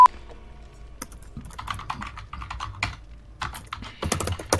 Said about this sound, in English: what is he typing over there?